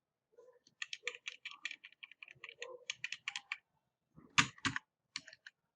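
Typing on a computer keyboard while writing Python code, rapid irregular clusters of close, crisp key clicks with brief pauses and a louder burst of strokes near the end, no voices.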